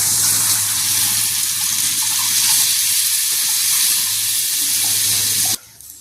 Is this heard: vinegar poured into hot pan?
yes